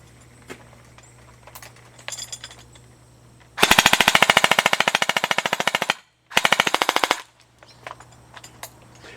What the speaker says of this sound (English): we're going to be shooting at that at full auto